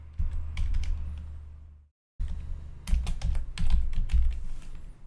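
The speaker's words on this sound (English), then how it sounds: "I heard you typing away, mate." Rapid, close-up clatter of typing on a computer keyboard runs in busy bursts, broken by a brief moment of silence before the keystrokes resume.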